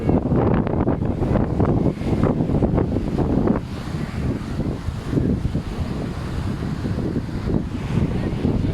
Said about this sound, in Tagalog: Ito sa sobrang lakas ng hangin.